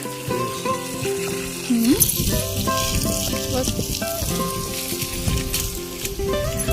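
Vegetables are watered with a garden hose, giving a steady, close hiss of spraying water that runs throughout. Tonal sounds ride on top of the spray.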